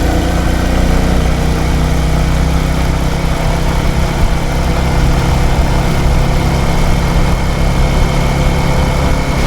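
A Royal Enfield 650 motorcycle engine runs steadily close by, a dense, continuous mechanical drone with a low rumble that holds at an even level throughout, with no voices.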